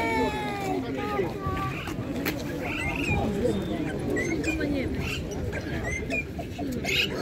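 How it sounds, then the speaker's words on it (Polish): Pigeons coo softly amid a busy, noisy pigeon market in Tczew, Poland, while people talk nearby, the birdsounds intermittent under the voices. "A to jest gołąb, nie?"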